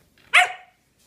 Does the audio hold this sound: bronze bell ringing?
no